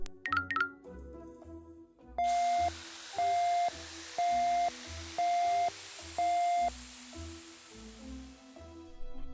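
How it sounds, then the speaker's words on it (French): An oven timer beeps five times in an even rhythm, each tone steady and clear, over a soft hiss and faint background music. "Écoutez, c'est le bruit du four."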